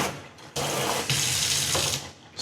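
A kitchen faucet in a Chicago house runs into the sink, a loud rushing stream of water that shifts in intensity as the flow changes, then cuts off near the end.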